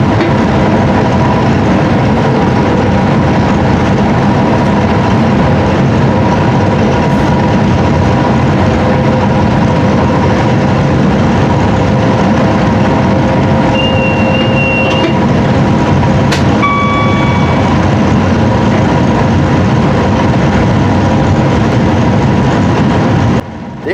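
Train running at speed on the Potteries Line between Stafford and Crewe, heard from the driver's cab: a loud, constant rumble and drone of wheels and engine, with a few brief tonal beeps midway.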